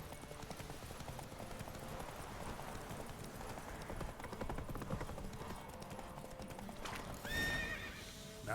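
Roach, the horse in The Witcher 3: Wild Hunt, gallops with steady rhythmic hoofbeats under game music, then gives a sharp whinny near the end.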